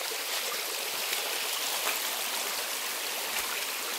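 Water spills over a small dam in a natural setting, producing a constant, moderately loud hiss and rush of flowing water with no voices over it.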